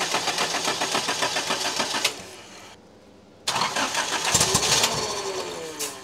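A car engine fitted with a Speeduino standalone ECU cranks with rapid rhythmic chugging, pauses briefly, then cranks again with a few catching pops close up, trying to fire on its first start.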